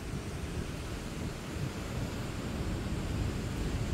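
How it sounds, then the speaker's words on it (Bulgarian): Sea waves wash in a continuous broadband rush, with wind-like noise and no voices. "Сега само за мъничко ще ви покажа и прекрасното ми море."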